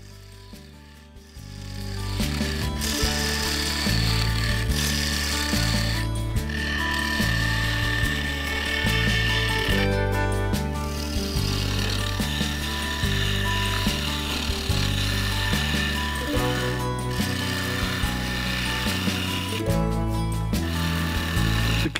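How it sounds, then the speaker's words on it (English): A carbide woodturning tool shaves a maple bowl spinning on a lathe, producing a continuous loud scraping and rasping over a pulsing low motor drone, with brief lulls as the tool lifts off the wood. "The carbide got the underside of the rim roughed in and blended into the midsection"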